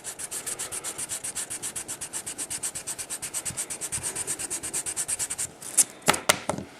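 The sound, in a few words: sanding stick rubbing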